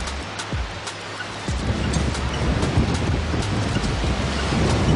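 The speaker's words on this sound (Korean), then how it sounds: "아이고, 바람 많이 분다." Strong wind blowing on the island of Gaedo in Yeosu, a loud continuous roar buffeting the microphone, with gusts rising and staying heavy throughout and no voices.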